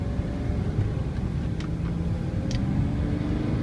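A truck on the move, engine droning steadily at close range with a few faint clicks and rattles over the constant low rumble, no talking.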